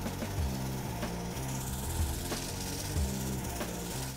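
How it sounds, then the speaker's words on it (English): A woodturning lathe spins a wooden bowl as a tool hollows out its interior, giving a steady low rumbling drone with a rhythmic repeating pulse and occasional sharp scraping ticks, close and continuous. "you're going to be pushing the tool into the wood and creating a hollow and a shape that's the interior of a bowl shape"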